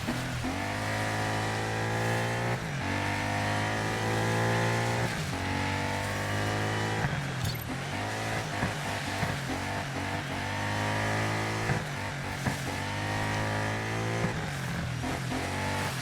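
A rally car in DiRT 5 driving on ice: the engine revs high and steady, then drops and climbs again in repeated cycles as gears shift, loud and close throughout.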